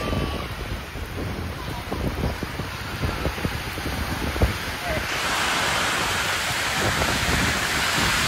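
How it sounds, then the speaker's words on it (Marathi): Heavy rain pours steadily over sheep sheltering outdoors, as a continuous broadband hiss that grows louder and denser partway through, with wind buffeting the microphone and occasional talk over it. "एवढा मोठा पाऊस आलाय"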